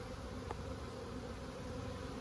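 Steady, low insect buzzing fills the background, a continuous hum of many honey bees close by at a hive, with no talk.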